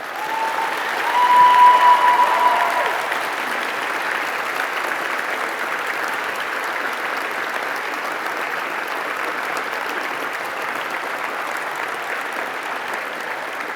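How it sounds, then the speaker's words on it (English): Graduation ceremony audience applauding loudly: a dense, sustained wash of clapping from a large crowd that swells early, then holds steady for many seconds. "Give them an absolutely loud applause for the contribution they played in your life."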